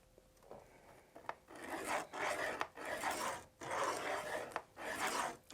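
Thick paper being scored for a DIY card box, a rhythmic series of five or six firm rasping strokes, each about half a second long, close and fairly loud with brief pauses between them and no talking.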